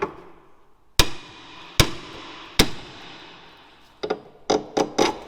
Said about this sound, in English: get yourself a hammer and hit it on the actual hub itself